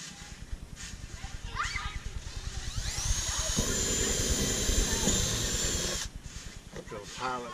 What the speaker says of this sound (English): Drill a pilot hole for the